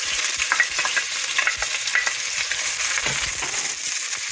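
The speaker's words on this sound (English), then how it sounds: "Over my stove I have 4 tablespoons of oil already heated up, so I will throw up my onions." Onions frying in four tablespoons of hot oil on a stove for coconut curry beans produce a close, busy sizzle broken by repeated clicks and scrapes of stirring.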